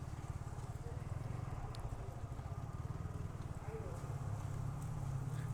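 A motorcycle engine rumbles with a low, steady, pulsing drone as it passes under a bridge, fairly faint and continuous, with some speech.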